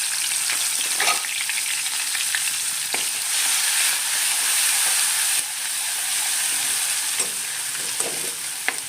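Turmeric, chillies, tomatoes and curry leaves fry in a pan with a loud, steady sizzle and hiss. Occasional stirring scrapes break the sizzle, and no one speaks.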